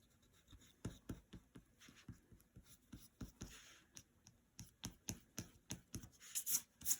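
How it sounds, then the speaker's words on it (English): A pencil line being rubbed out with an eraser on paper during a landscape drawing: a series of short, close, soft scrubbing strokes in an uneven rhythm, quiet and alone. "so I need to erase this line."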